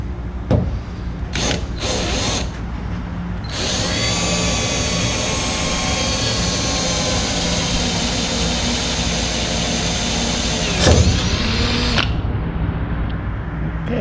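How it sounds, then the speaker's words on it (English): Power drill whining steadily as it bores out holes in a 1977 Pontiac Trans Am, with a few short bursts at first, then one long, loud, continuous run that stops abruptly near the end. "I'm gonna go ahead and see if I can drill these out without chipping paint and get some screws in them."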